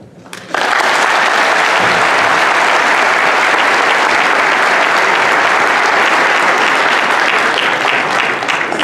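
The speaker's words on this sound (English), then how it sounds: "Please give her a big applause" A large crowd at an Eritrean Independence Day gathering in Washington DC breaks into loud, sustained applause that starts abruptly and holds steady for several seconds.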